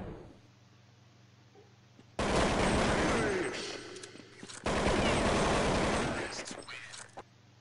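Rapid bursts of AK rifle fire in a video game frag scene, two loud sustained volleys of repeated shots with a brief gap between them, standing alone after a quiet start.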